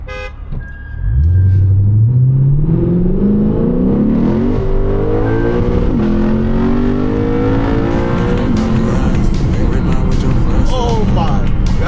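A modified car engine of roughly 500 horsepower revs hard under load, climbing loud and near through rising pitch with brief shifts between pulls, and a voice comes in over the roar.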